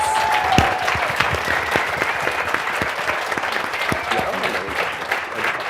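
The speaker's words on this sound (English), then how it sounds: "Thank you, and one more round of applause for our incredible panelists." A conference audience applauds the panelists at a river policy gathering, producing continuous clapping with distinct individual claps and a few cheers and voices rising over it.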